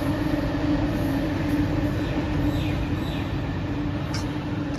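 A train passes close to a home on a sunny morning, making a steady, loud rumble that fills the whole stretch without a break, with faint higher rattles near the end.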